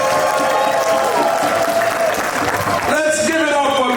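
Audience applause for Miss Thompson at a St. Nicholas Catholic Church 101st anniversary celebration, steady loud clapping with a voice talking over it throughout.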